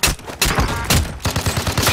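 Gunfire in a shooter video game: rapid, loud bursts of shots in quick succession, close and punchy, with a brief gap between volleys.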